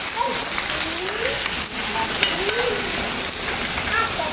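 Ginger garlic paste sautéing in a hot pan, a steady broadband sizzle running throughout with faint stirring clinks and scrapes, loud and close.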